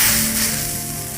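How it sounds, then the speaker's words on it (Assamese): Chopped onion fries in hot oil with cardamom, cinnamon, cloves and bay leaf for a mutton curry, producing a loud, close, continuous hiss and sizzle with no talking. "কটা পিঁয়াজ কেইটুকুৰা অলপ ৰঙচুৱা হোৱালৈকে মই ভাজি থাকিম।"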